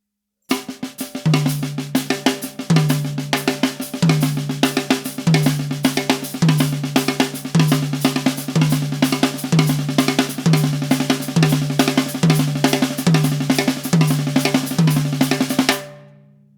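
A fast, driving nine-note drum pattern of dense stick strokes with regular low drum accents, played continuously and loudly before stopping abruptly.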